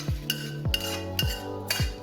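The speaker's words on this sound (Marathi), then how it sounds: "आता शेवयांना मस्त ब्राऊन कलर आलेला आहे. त्या आपण आता एका ताटात ओतून घेऊ." Roasted, browned vermicelli is tipped out of a pan onto a plate as a metal utensil knocks and scrapes the cookware four times in an uneven rhythm, close and fairly quiet.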